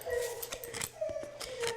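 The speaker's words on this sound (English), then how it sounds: "Do you hear my dog talking?" A pet dog vocalizing indoors, a short run of soft whining, howling tones that rise and fall, faint and close against a quiet room.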